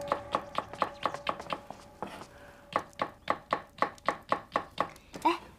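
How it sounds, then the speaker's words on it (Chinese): A kitchen knife chops vegetables on a board in a crisp, even rhythm of close taps, pausing briefly before the steady chopping resumes. "你们看，我现在切菜这手艺完全就可以去酒楼打下手了。"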